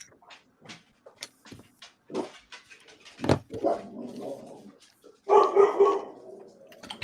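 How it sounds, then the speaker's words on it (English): A pet dog barks in a few sharp bursts indoors, close by and fairly loud, breaking through quieter background sounds. "Oh, that's my dog."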